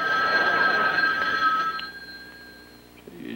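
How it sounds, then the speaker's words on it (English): An old-fashioned telephone bell rings steadily for about two seconds, then stops, leaving a quiet room with a faint clink. "But I believe this is the telephone."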